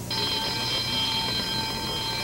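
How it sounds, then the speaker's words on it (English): An electronic alarm rings continuously at a steady, shrill pitch, loud and alone, with no talk over it. "Alarm."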